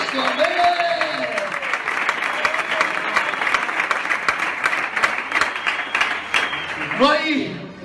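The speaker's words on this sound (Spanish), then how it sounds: "Dar un fuerte aplauso al amor de Cristo" A church congregation claps together in a steady, full round of applause, with voices calling out over it at the start and again near the end.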